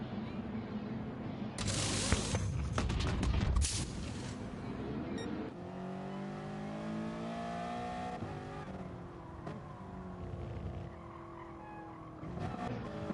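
Gran Turismo Sport race car on a flying qualifying lap at Lago Maggiore, engine revving and shifting through gears with rising and falling whine, loud tire squeal and skidding bursts early on, steady close onboard engine roar afterwards.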